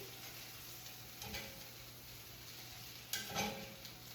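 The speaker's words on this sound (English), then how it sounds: "let's go ahead and flip over this bacon because my pan is nice and toasty" Bacon sizzles quietly and steadily in a hot, well-heated pan, with a couple of soft clicks and scrapes as the strips are flipped.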